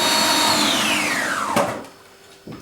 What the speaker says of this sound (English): We're blending and blending and blending.